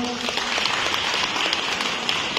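Steady applause from a crowd at a community gathering on a basketball court, a dense wash of clapping that holds evenly throughout.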